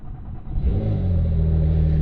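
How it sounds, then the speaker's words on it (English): A Porsche 911 Carrera 4 GTS exhaust roaring as the engine revs up, a deep rumble that swells within the first half second and then holds loud and steady. "That's the only time that you actually get a really nice noise out of the exhaust."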